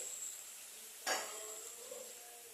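A pot lid set down with one sharp clank partway through, after green chillies go into a pot of Bengali mocha chingri (banana flower with prawns), with soft kitchen clatter around it and no talking.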